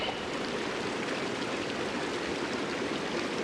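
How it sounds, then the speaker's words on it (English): Water rushing and gushing in Honkai Star Rail, a steady broadband stream-like roar that holds at an even, fairly loud level throughout with no talking. "I don't know what happened, but water just started gushing out everywhere."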